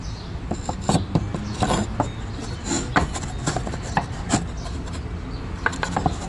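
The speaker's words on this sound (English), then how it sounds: "So I'm sanding the boards." Purpleheart and padauk wood boards are sanded by hand in short, scratchy rasping strokes, close and fairly loud, with no talking.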